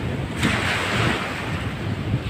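Steady rush of surf along a shoreline at Brooks, Palawan, with wind buffeting the microphone, a continuous broadband wash with no voices.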